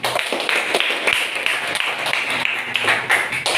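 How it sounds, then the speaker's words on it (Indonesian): An audience claps for Nazarudin and Alfian after a competitive script performance, a short, even patter of many hands at moderate volume, fairly close. "berikan tepuk tangan untuk Nazarudin dan Alfian"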